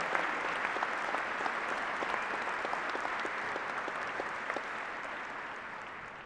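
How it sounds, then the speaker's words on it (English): Commencement audience applauding graduating students in a large hall, sustained crowd clapping heard at a distance, soft and even, slowly fading. "Could you join me in another round of applause for our students here and the great work that they're doing?"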